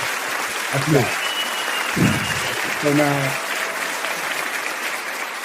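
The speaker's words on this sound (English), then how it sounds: "Let me give you a round of applause" Steady applause fills the whole stretch, a broad wash of clapping under someone talking in short bursts.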